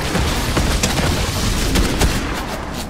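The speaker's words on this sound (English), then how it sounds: "Shoot from up here." Gunfire in the Fortnite video game, loud dense bursts of shots with booming impacts over a constant noisy background, several sharp blasts standing out.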